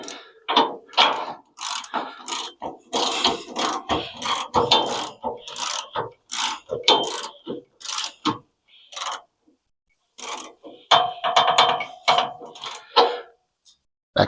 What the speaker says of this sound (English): That click means that it's reached 35 foot-pounds.